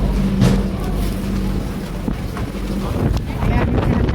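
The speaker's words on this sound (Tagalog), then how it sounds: "Ayan, yung ferry." Ferry boat at Lamma Island, a steady engine rumble and water wash under heavy wind buffeting on the microphone, with brief voices in the background.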